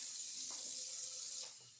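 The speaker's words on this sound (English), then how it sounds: "Let's get 2 cups of water in here." Water streams steadily from a tap into a pot holding dry, unboiled rice, a continuous splashing rush that thins out near the end.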